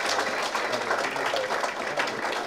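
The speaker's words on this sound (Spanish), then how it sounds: "El aplauso para los chicos." An audience at an interview event applauds the guests with continuous, dense clapping that stays steady throughout, heard from within the room.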